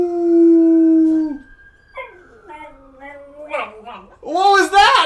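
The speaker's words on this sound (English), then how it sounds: "you're gonna see our dog howl" A pet dog gives a long, steady howl that breaks into wavering, yodeling whines and yips, close and loud, with a person's brief exclamation at the end.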